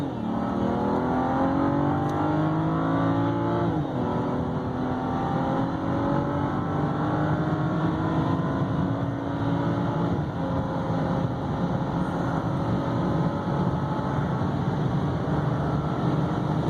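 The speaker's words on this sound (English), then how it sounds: "I don't think I've ever actually just held it to the floor, so I'm going to try that" A 2010 BMW 335 xDrive twin-turbo AWD sedan accelerating hard at full throttle on an open road, its engine note loud and continuous with rising pitch sweeps through the gears and no talking.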